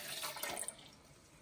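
A brief gush of water being poured into a measuring cup, quiet and close, tapering off within about a second.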